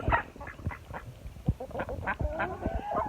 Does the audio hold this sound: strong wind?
no